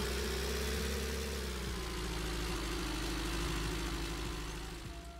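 A pickup truck engine in the video game PickUp turns over and settles into a steady, rumbling idle, loud and close with a low throbbing drone that fades slightly at the end.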